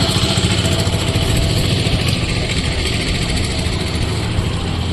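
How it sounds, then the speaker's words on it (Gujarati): A motorboat engine drones steadily and loudly at close range, a continuous low rumble with a buzzing texture that holds without pause throughout. "બોટ આપણી ચાલી જો"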